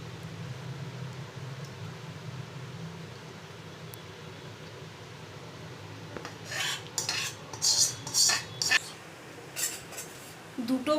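Homemade neem soap mixture poured into greased bowls. A quiet hiss at first, then a run of close clinks and scrapes as the mixture is spooned out.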